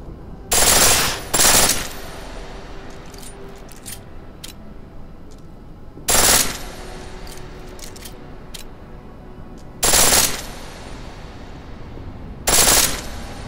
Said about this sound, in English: Pistol in full auto will take down targets fast, but it'll burn through your ammo.